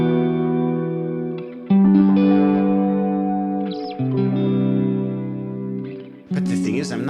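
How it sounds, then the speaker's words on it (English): A guitar played through a perfect-fifth pitch shifter, Memory Man–mode saturation and a Soundtoys EchoBoy delay rings out in sustained, layered chords with lush echoing tails, changing chord every couple of seconds, with no talking. "I'm going to add my favorite delay from Soundtoys, which, as you might know, is Echo Boy."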